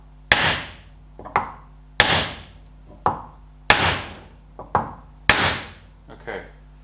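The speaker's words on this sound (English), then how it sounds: "That hammer's not quite heavy enough," A metal hammer hits a steel front spindle part on a Ferguson TED20 tractor, giving four sharp, loud ringing blows at an even pace. Each blow is followed by a lighter tap.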